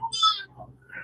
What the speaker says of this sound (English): I'm so sorry if you can hear my children in the background.